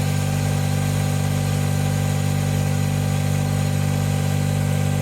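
A John Deere 1025R compact tractor engine runs steadily at about 2,000 RPM, a close, even mid-pitched drone with constant vibration and no change in speed, no voices present.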